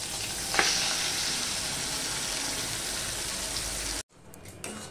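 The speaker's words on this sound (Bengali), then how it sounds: "পালং শাকের পেস্টটা আমি সম্পূর্ণটা দিয়ে দিয়েছি, দিয়ে এবার আমি এটা একটু কষিয়ে নেব।" Spinach paste frying in a pan, a loud, steady close-up sizzle that runs unbroken for about four seconds before cutting out to quiet kitchen background.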